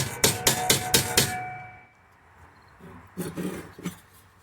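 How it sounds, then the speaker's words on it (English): A hammer taps a metal brace bent in a vise, five quick ringing strikes in a steady run, then a pause and a few more irregular taps, close and alone. "I pull it through the vise a little bit at a time, tapping on it."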